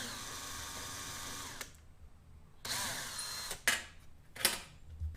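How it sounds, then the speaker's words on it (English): A power drill pre-drills a hole through the middle of a scrap copper shingle, in a few short whirring bursts separated by pauses, the last ones rising sharply as the bit bites, fairly quiet overall. "So I'm just going to pre-drill right in the middle so that I don't have to worry about that once I get it up on the roof."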